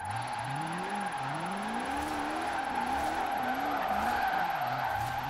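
A one-gear 270 mph hypercar slides through corners in Forza Horizon 4, its engine note rising and falling in looping sweeps under a steady whine and tire noise, continuous and close.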